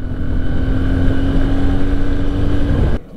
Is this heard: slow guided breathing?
no